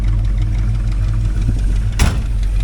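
A 1968 Dodge Coronet 500's 440 big-block V8 idles with a deep, steady rumble, then a brief sharp burst near the end before settling back; possible exhaust leak.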